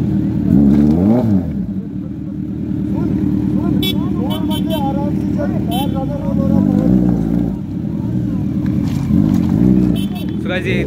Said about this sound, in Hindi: देखो Z900 ऑफ रोड पे सुपर बाइक।